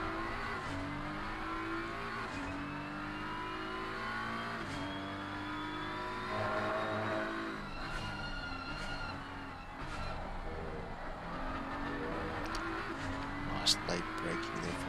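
Race car engines drone and climb through the gears as cars lap Misano in a sim racing game, including a Honda, with steady revving and shifting pitch, and a brief tire squeal near the end.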